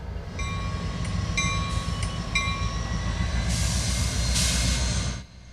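Switcher locomotives work Avon Yard west of Indianapolis, a steady low diesel rumble with tonal whines and brief bursts of hissing air, cutting off near the end.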